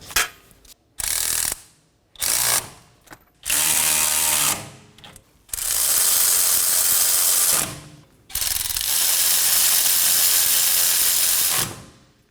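A ratchet snugging down the wheel hub bolts on a Nissan Maxima during a front wheel bearing and hub replacement, heard as loud, close bursts of rapid clicking separated by short pauses, the later bursts running longer.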